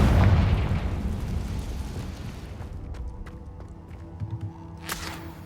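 A Confringo blasting spell detonates in the video game Hogwarts Legacy: a loud, heavy boom that rolls off and decays over several seconds, with scattered small crackles and a brief bright burst near the end.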